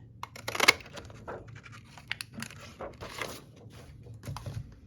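Oversized index card being cut by hand, a string of short crisp snips and paper rustles up close, one louder burst near the start, then scattered lighter cuts.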